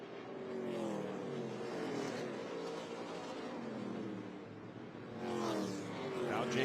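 ARCA Menards Series West stock cars roar through turns 3 and 4 at Irwindale Event Center, a steady, loud engine drone that swells near the end, with a commentator talking over it.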